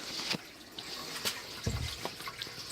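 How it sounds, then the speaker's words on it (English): Water pouring into a sump pit, splashing and trickling nearby, with irregular drips and a low gurgling surge partway through; no talking. "Now the water's pouring in there even more harder."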